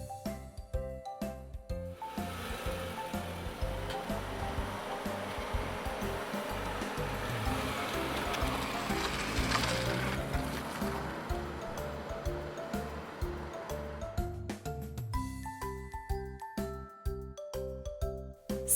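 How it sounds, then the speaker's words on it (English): A car passes amid city noise, a broad rushing engine and road sound swelling in the middle and fading, framed by music at the start and end. "Car."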